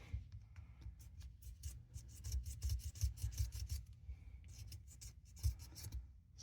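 A popsicle stick scrapes and rubs grime out from inside a Western large stockman pocket knife, giving quiet close-up rasping strokes in an uneven rhythm with no talk.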